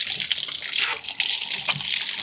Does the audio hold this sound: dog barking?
no